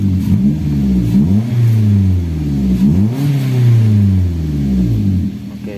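A Toyota Avanza engine with a dirty idle speed control revs loudly and steadily, its pitch sweeping up and down in repeated swells as the RPM hangs high instead of settling to idle.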